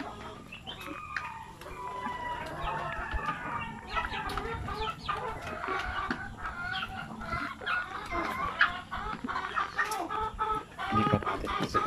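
A flock of native chickens clucks and chatters continuously around a farm weighing area, a busy mix of overlapping calls at close to moderate distance.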